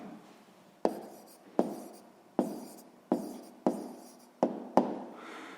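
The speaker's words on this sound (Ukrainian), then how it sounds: "Ну що ж, записуємо відповідь." A pen marks down the answer to a sixth-grade maths exercise on paper, giving seven sharp strokes that each fade out quickly, spaced roughly every half to one second, close and alone with no talk.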